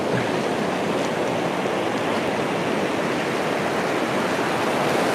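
Water flowing steadily with a dense, continuous rushing wash, loud and close, no pauses or voices.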